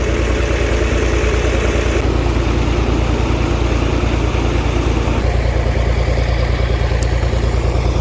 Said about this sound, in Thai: เครื่องสามสูบครับ